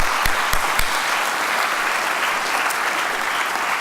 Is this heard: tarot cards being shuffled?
no